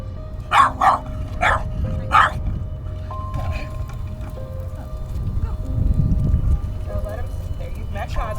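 A dog barks in a few sharp bursts early on, then goes quiet while low rumbling noise and faint background activity continue.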